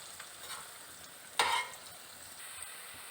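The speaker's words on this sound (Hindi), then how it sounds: "ये हमारे पकोड़े फ्राई हो गए, ये मैं निकाल रही हूँ।" Vegetable pakoras in hot oil: a faint, continuous frying crackle with one brief loud burst of sizzling partway through, then settling back to a low bubble, with no voices.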